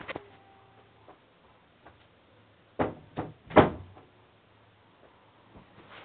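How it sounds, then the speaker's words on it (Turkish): A door is closed indoors during a Minecraft session, heard as a few sharp, hollow knocks and thuds clustered together midway, with faint ticking clicks before and after in an otherwise quiet room. "Kapıyı kapatıp geliyorum."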